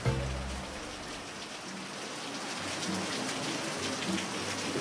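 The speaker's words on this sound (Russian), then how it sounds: "Сан-Кристобаль внезапно накрыло настоящим тропическим ливнем" Tropical downpour over San Cristóbal in Mexico, heard from shelter indoors, a steady dense hiss of rain pattering on surfaces, moderately loud and continuous with faint background murmur.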